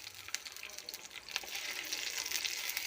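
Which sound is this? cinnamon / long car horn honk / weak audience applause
cinnamon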